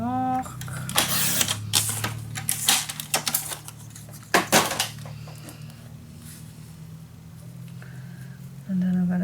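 Paper cut for a burgundy scrapbook mini album in a series of sharp, close clicks and scraping bursts, clustered at first and then thinning out, with a voice speaking at times.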